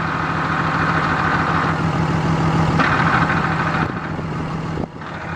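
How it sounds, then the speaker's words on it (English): A 2008 Dodge Ram 2500 with a Cummins diesel and six-speed manual, fitted with a South Bend twin-disc clutch, idles with a steady, close rumble that runs alone and shifts slightly in tone near the end. "These south bends, they've got a little chatter to them"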